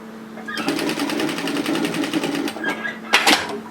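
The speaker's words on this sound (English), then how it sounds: "So I'm going to run a line of stitching through my overlocking line." A sewing machine runs a line of stitching through an overlocked pocket seam on a cocoon cardigan, a close, steady rapid needle rhythm for about two seconds, then brief handling clicks and a sharp knock.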